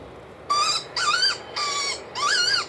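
Four harsh, evenly spaced squawks ring out from an airport bird-scaring device playing a recorded starling distress call, each about a third of a second long, loud and close against quiet background noise.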